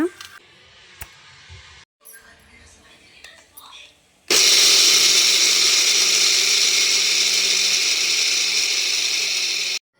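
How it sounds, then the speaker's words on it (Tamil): Roasted, skinned peanuts go into a kitchen mixer grinder: faint handling noises first, then the motor kicks in with a loud, steady whirring grind for several seconds before stopping abruptly. "நல்லா வறுத்து வச்ச நிலக்கடலைக்கு இந்த மாதிரி தோல் எடுத்துகிட்டு மிக்சியில் போட்டு மெதுவாக பல்ஸ் மூடில் விட்டு விட்டு அரைச்சிக்கோங்க"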